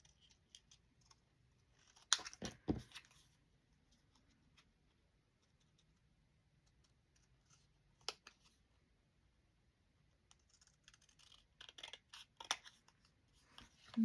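Scissors snip through a piece of paper in a few short bursts of crisp cuts, with quiet pauses between them and no talking.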